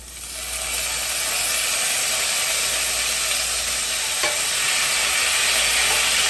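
Steak and shrimp sizzling and frying steadily in a hot pan, a loud continuous crackle with a brief clink partway through, no talking.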